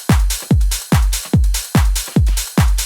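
Trance drum loop with a ride cymbal on the offbeats over a deep, booming four-on-the-floor kick, seven heavy pumping beats in a steady driving rhythm, loud and with no voices.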